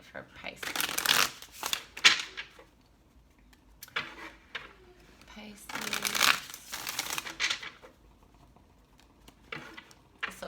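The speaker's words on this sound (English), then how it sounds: "This will be our last shuffle." Tarot cards being shuffled by hand, close and crisp, in two long riffling bursts separated by quieter pauses with small taps and rustles.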